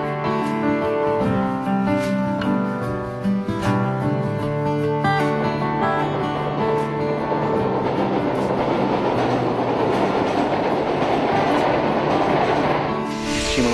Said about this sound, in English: The train travels beneath the strait through the Kanbon Tunnel